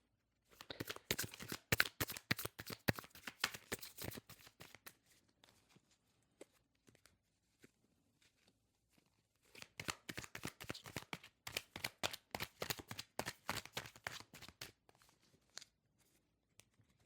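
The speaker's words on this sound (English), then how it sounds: "Let's get an advice card out here." Tarot cards being shuffled and drawn, giving two long runs of rapid, crisp riffling flicks separated by a quiet pause with a few soft card taps, close and alone.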